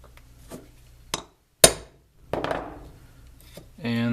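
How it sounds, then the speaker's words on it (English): A hammer strikes a punch to mark a drill hole in a box for a dual-18650 DNA 200 mod build, sharp close metallic taps with small clinks and handling noise, and a voice-like tone at the end. "I'm just going to hold this on here and punch it with a hammer."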